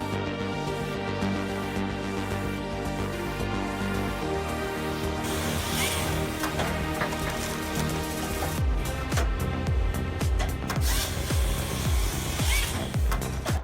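A homemade firewood processor driven by a 3 kW motor splits applewood, giving a loud, continuous mechanical drone with dense rubbing and rasping texture, and heavier cracking, thudding bursts in the second half.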